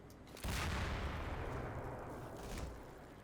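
A grenade fired as a weapon's alternate fire in the video game Garry's Mod, a sudden loud blast that rumbles on for about two seconds, with a second swell near the end.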